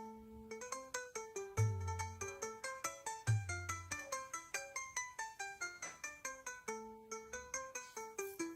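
A melodic electronic phone ringtone plays a repeating pattern of bright plucked notes, looping steadily for several seconds.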